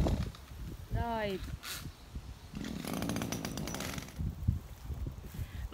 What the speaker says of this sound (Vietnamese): bây giờ mình sẽ khởi động máy cắt cỏ